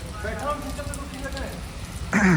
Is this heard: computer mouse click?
no